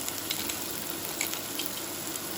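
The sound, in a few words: onions frying in a pan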